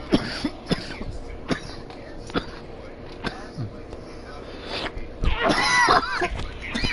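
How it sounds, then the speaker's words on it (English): Several sharp coughs and throat clearing from a person during a PlayStation party chat, scattered across the stretch and growing into a louder burst near the end, with faint voice sounds between. "I'm coughing. I gotta go on mute."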